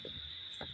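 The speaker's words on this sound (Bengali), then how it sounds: "বর্ষার জন্য চারিদিকে ঝিঝি পোকা ডাকছে," Crickets in the rainy season keep up a steady, thin, continuous chirring that runs through the whole moment, with a few faint low knocks and rustles beneath it and no voices.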